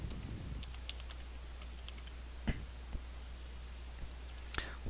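Quiet, close typing on a computer keyboard during Photoshop work, soft irregular key clicks with a few sharper taps over a low steady hum.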